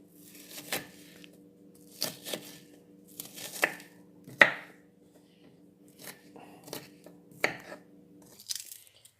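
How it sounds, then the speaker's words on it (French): Onions are cut with a knife on a board in a home kitchen, about eight distinct chopping knocks spaced irregularly with quiet gaps, fairly close, over a faint steady hum and no talk. "Il faudra ensuite couper les oignons."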